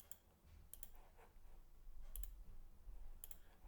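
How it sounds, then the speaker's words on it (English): Quiet computer mouse double-clicks come in paired bursts, three sets spaced about a second apart, over a faint low room hum with no talking. "If I double click on this one of this one, can you see the difference?"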